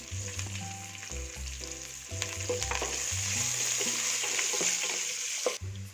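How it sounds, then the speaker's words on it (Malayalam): Six chopped green chillies dropped into hot oil with whole spices for mushroom biryani, a loud close sizzle that builds and holds, punctuated by stirring scrapes and a clank at the end, with no talking. "ഇതിൽ പച്ചമുളക് ഞാൻ ഇതിൻ്റെ കൂടെ ഇടുവാണേ."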